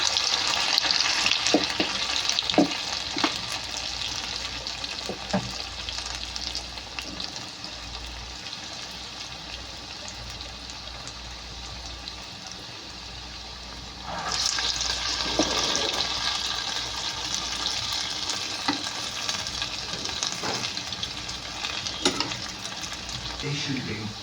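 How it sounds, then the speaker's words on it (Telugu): Ginger vadas (allam garelu) frying in hot oil: a steady, close bubbling sizzle that holds throughout and swells louder partway through, with a few soft clinks and some quiet talk. "చక్కగా 2 పక్కల ఫ్రై చేసుకొని ఇది తీసేసుకుందాం"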